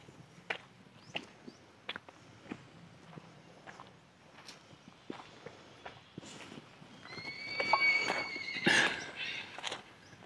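Horses neigh near a river with cottages, several whinnies rising late amid hoof clip-clops and scattered footsteps, fairly distant and quiet.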